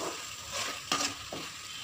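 Chicken curry (kari kulambu) frying in oil while being stirred, a steady close sizzle with a couple of sharp scraping strokes of the spoon.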